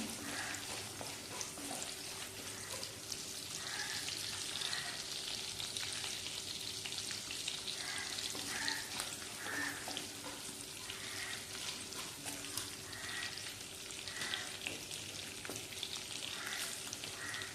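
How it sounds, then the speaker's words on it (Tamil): Garlic sautéing in oil in a pan for bitter gourd tamarind curry, a soft steady sizzle with light scraping stirs now and then, close but quiet, and nobody speaking. "பூண்டு கொஞ்சம் வதங்கட்டும்."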